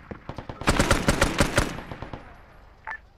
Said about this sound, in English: We're taking fire already.